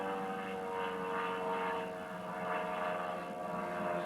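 A small propeller airplane drones overhead, a steady close engine hum holding level throughout with no speech.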